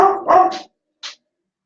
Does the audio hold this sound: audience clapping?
no